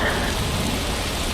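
Steady rain pours in the world of Metal Gear Rising: Revengeance, a dense, even hiss that fills the clip from start to finish with no breaks or voices.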